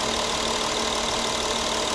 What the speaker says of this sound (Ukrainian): І ось робота двигуна. Послухайте, як класно працює. Еластично, тихо, рівно.